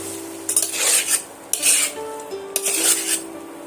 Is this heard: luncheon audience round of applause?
no